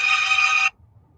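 A mobile phone rings in a board meeting room with a single short electronic trill that cuts off abruptly, leaving faint room noise.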